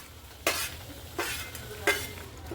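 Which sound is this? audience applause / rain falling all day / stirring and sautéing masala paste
stirring and sautéing masala paste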